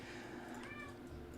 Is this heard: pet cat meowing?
yes